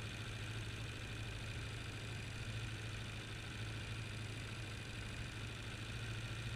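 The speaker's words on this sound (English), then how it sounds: "And that's right about where it's supposed to idle." A car engine idles steadily, fresh off a rebuild and set slightly high, with a constant low rumble and even, unbroken tone throughout, close up and with no talking.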